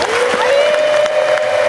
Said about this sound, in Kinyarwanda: Muyikomere amashyi, muhe n'impundu.